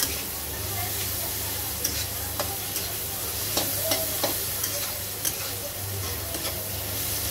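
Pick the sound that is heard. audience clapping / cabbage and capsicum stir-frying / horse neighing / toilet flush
cabbage and capsicum stir-frying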